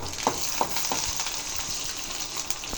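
Tempered onions sizzle in hot oil for paruppu urundai kuzhambu, a steady close frying hiss with a few soft pops throughout, and no voices.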